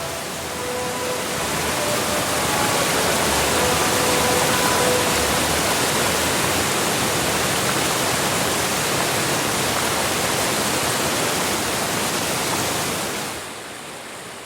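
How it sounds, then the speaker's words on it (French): The wild Aversoix river flows beneath a canopy of trees, a steady, loud, close rush of water that holds unbroken for about thirteen seconds before fading out. "Rivière sauvage qui exerce une sorte de fascination sur l'observateur attentif"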